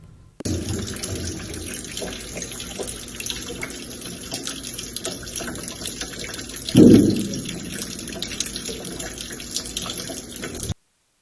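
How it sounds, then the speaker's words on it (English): Water pours steadily from a leaking classroom ceiling into a bucket, a continuous splashing rush with a brief louder gush midway, close and without talk. "A video of another classroom shows water raining from the ceiling into a bucket."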